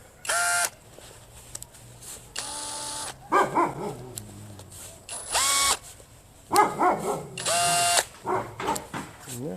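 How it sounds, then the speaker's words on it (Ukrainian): A cordless screwdriver turns spoke nipples while a bicycle wheel is being laced, running at low speed in short whirring bursts with ratcheting clicks between them, close up and without speech. "Цей шурупокрут для такої роботи повільний, хоча це я на меншій швидкості ще"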